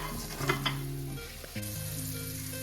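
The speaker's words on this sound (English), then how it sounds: "to the beef fat that's already there, I'm gonna add my chopped up onions. I'm gonna let it caramelize in that fat" Chopped onions sizzle and fry in hot beef fat in a pan for a burger recipe, a steady close crackle with a few stirring scrapes and a low tonal hum running underneath.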